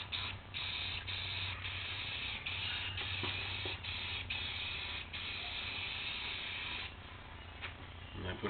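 Paint spraying on trim of a Shasta camper: a steady, continuous close hiss of spray across the whole span, with brief dips where the trigger pauses.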